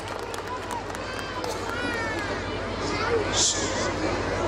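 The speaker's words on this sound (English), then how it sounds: "So a big round of applause for Sir." Dense, steady clapping from a large crowd at a school ceremony at North Point Residential School, filling the room at an even level with a murmur of voices mixed in.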